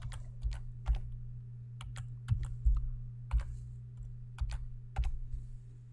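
Data being typed on a computer keyboard, a steady run of close, crisp key clicks in small bursts with a low hum behind, no talking.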